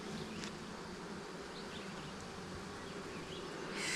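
A honeybee swarm buzzes as a dense, continuous hum close by, with a few individual bees passing nearer and louder.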